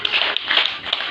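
A church congregation applauding for Jesus, a brief burst of many hands clapping together at close range, with no talk over it.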